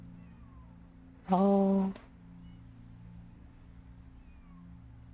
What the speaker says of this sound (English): this one will meow at absolutely anything